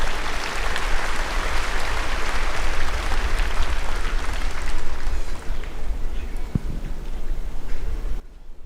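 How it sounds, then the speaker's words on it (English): An outdoor crowd claps for the Honiara City Mayor at a Solomon Islands independence anniversary ceremony, a sustained wash of applause that holds steady, then thins toward the end. "Give him a big round of applause"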